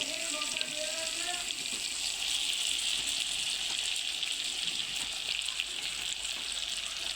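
Eggplant fritters frying in hot oil, a continuous soft hiss and crackle of sizzling that stays fairly faint and steady, with a few brief voices early on.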